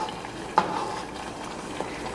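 Spoon stirring tomato sauce into a pot of red beans, a soft continuous scraping with a brief louder clatter early on and a faint one near the end, close by with no talk.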